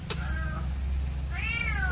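A cat meows twice, a short call followed by a longer rising-and-falling one, over a steady low hum in the background, with no voices present.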